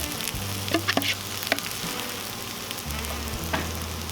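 Peppers sizzle steadily on a Cuisinart 360° griddle cooking center over medium heat, a dense, constant hiss close by with a few faint clicks and scrapes mixed in.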